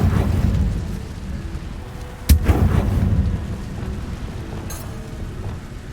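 Incendio fire spell cast in Hogwarts Legacy, heard as one sharp, loud burst with a short booming crackle that fades into a steady low game rumble, with a fainter second pop near the end.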